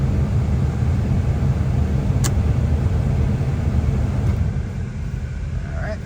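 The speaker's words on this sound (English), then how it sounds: "You hear that fan start cranking?" A 1975 Oldsmobile Cutlass S idles with a steady low engine rumble as its cooling fan starts cranking, a constant close hum with a brief sharp click partway through.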